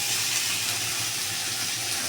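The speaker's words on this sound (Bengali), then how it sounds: "দেখো সব রকমের সবজি দিয়ে হালকা তেলে আমি একটু ভেজে নিচ্ছি।" Mixed vegetables frying in a little oil in a home kitchen, a steady broadband sizzle and hiss that runs evenly throughout at moderate level, with no talking.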